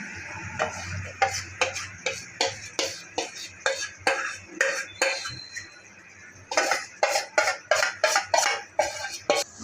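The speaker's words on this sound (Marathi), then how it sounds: "आता ह्याला कंटिन्यू ढवळत राहायचं आहे।" Ghee and besan being stirred into sugar syrup for Mysore pak, with rhythmic spoon strokes scraping and knocking against the pan, a short pause midway, then quicker steady strokes.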